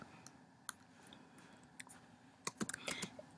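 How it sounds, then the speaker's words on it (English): Computer keyboard typing while a quotation is entered, heard as sparse, irregular key clicks that cluster into a quicker burst near the end against a quiet room. "and then you're going to type"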